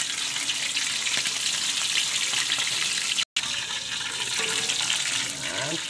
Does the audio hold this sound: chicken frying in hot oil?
yes